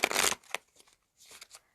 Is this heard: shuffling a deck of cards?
yes